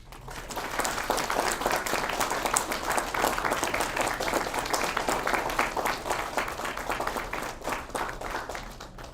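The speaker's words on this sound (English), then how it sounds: "I would like to start by immediately having a massive round of applause for our IB students" Dense, sustained applause from a large school graduation audience honouring IB students, steady and loud throughout with many overlapping claps and no speech.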